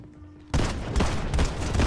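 Sudden burst of enemy gunfire in Fortnite, a fast stream of loud, close shots that begins abruptly after a quiet moment and keeps hammering to the end.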